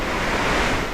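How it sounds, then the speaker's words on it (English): Rushing torrent of a swollen mountain stream in the Julian Alps, a dense, roaring wall of broadband water noise, loud and steady throughout with no breaks and no voices. "An absolute wall of water there."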